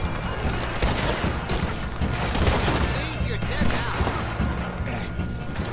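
Gatling gun fire in Red Dead Redemption 2, dense rapid bursts of gunshots with mechanical rattling and crashing over a loud, busy battle, close and continuous, with voices talking over it.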